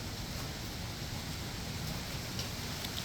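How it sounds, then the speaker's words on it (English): Steady broadband hiss of rain falling as a thunderstorm arrives outdoors, even and continuous throughout without any voices. "And here comes the rain."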